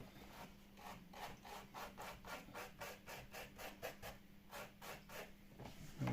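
Steady back-and-forth scrubbing with a small, slightly wet toothbrush on a car door panel, rhythmic rasping strokes about twice a second, close up, with a faint hum underneath.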